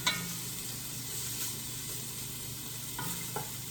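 Carrots sizzle and are stirred in hot oil in a pan during a quick dinner, with a steady close frying hiss and a few soft scraping stirs throughout.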